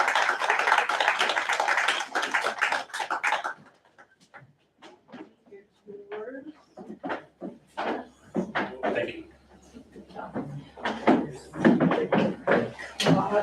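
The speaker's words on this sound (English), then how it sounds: "let's give them a huge round of applause" Applause from a school board meeting audience fills the room for a few seconds, dense and steady, then thins to scattered claps and taps while people talk.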